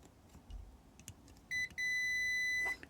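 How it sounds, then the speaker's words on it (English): A multimeter beeps during a resistance check on a failed LED downlight's circuit board: a short tone, a brief gap, then a longer steady continuity beep, all clear and close over quiet room tone. "So I'll stick my multimeter probes on and we should hopefully get resistance."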